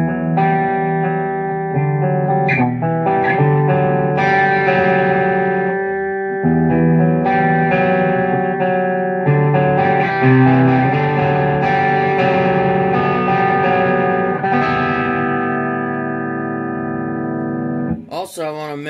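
An electric guitar plays through an EVH signature Peavey 5150 tube amp with its controls set around noon. Distorted chords and riffs ring out loud and sustained, with short pauses between phrases.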